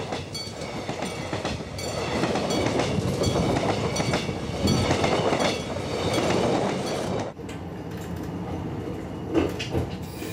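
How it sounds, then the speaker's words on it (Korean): A Gyeongjeon line train runs on the rails with a loud, continuous rumble and rhythmic clickety-clack, swelling and easing as it rolls toward a station. "경전선 열차가 평촌역에 들었습니다"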